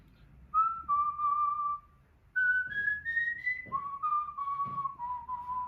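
A person whistles a steady tune, pauses, then jumps up an octave and drops back down again, clear and close with no talking.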